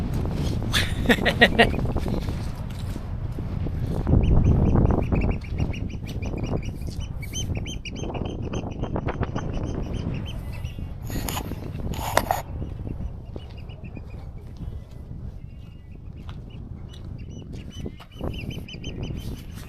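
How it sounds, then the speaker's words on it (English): Birds chirp and squeak close by amid bursts of fluttering wings and wind buffeting, with a person talking over parts of it. "Getting beat up by birds."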